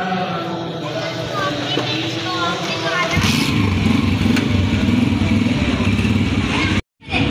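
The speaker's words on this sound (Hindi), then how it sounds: "ये पापा ने बाइक स्टार्ट कर ली है" A motorcycle starts up for a trip to Eid shopping, then its engine idles and revs steadily in the foreground, loud and continuous until it cuts off near the end, with voices over the first part.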